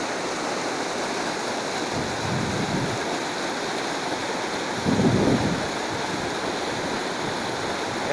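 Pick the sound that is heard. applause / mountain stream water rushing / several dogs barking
mountain stream water rushing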